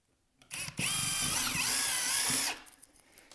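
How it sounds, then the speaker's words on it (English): A power drill with a small drill bit boring a hole for a wall mount, with a brief trigger blip and then about two seconds of steady high whine, close and loud before stopping. "start with your smallest drill bit first, and then use a slightly bigger drill bit."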